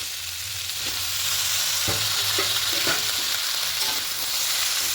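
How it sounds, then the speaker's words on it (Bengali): Mixed vegetables and bottle-gourd greens fry in a pan with salt, turmeric and spices, giving a loud continuous sizzle broken by a few sharp stirring scrapes, with no voices. "একটু সবজিগুলোকে ভাজা ভাজা করে নেবো আর একটু কষিয়ে দেবো ভালো করে"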